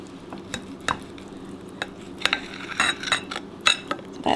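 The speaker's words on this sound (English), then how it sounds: "I'm just going to half my fillets into strips" Fish fillets being cut into strips on a board, heard as a series of close, irregular knife taps and scrapes, growing busier toward the end.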